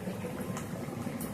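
Ingredients frying in a pan over medium heat, a close, continuous bubbling sizzle with soft crackles and no pauses.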